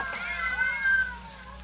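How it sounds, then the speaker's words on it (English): Several cats meowing and caterwauling together in a confined room as a radio drama effect, a thin, wavering chorus of cries held fairly loud and unbroken for under two seconds. "knowing her deadly fear of cats, has locked her in here with half a dozen of them"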